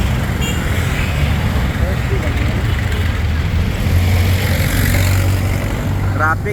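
Continuous road traffic noise from cars and trucks in an early-morning jam, a low engine drone that swells toward the end, with voices talking over it.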